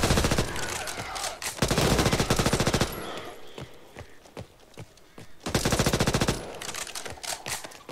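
Rapid automatic gunfire in the co-op shooter Back 4 Blood, fired with a fast reload: dense, close bursts of chattering shots, pausing briefly between longer strings of fire.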